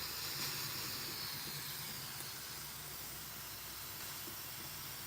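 A continuous hiss of steam escaping from a pressure canner runs steadily throughout, with a low hum underneath and no pauses.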